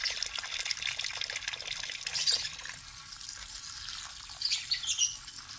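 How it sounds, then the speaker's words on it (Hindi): Water is poured gently over soft bird food to wash it, making an uneven trickle and splash with faint bird squawks in the background. "अब इसको धोना है। पहले पानी हल्के इसमें कर लो।"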